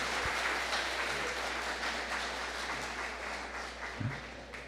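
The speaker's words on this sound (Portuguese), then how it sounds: "agora vocês estão sendo aplaudidos" Studio audience applause for a Brazilian duo, a steady wash of clapping with a few louder claps near the start and end, moderately faint and continuous without speech.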